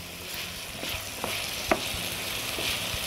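Onion fries in a pan with a continuous close sizzle, broken by a handful of light stirring clicks and one sharper tap near the middle, with no one talking.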